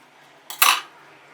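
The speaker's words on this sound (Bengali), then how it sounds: "এখন একটা সিজারের সঙ্গে আমি চিংড়ি মাছের এই অংশটা একটু কেটে নিচ্ছি।" A single sharp snip as scissors cut through a raw shrimp in a kitchen, one brief crisp clip standing alone against quiet.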